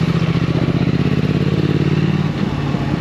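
Steady, loud throbbing of a Triumph Thruxton 1200R motorcycle engine nearby, its rhythmic pulse holding for a few seconds before the tone drops and softens near the end.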